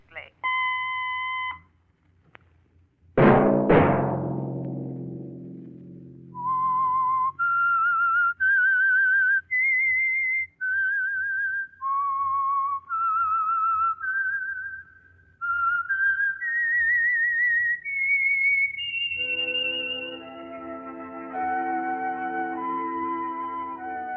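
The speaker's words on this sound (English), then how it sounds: "Let that whistle be your signal for the Signal Oil program, The Whistler" The signal tune for The Whistler radio program, a Signal Oil mystery show, is whistled as a melody of clear, sustained notes stepping up and down, preceded by a sharp struck sound and ending with a band chord.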